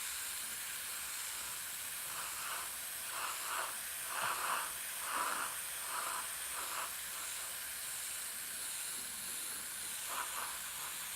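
Spray gun laying black paint onto a guitar body, a steady continuous hiss throughout with short pulsing bursts in the middle and again near the end, fairly close and alone with no talk.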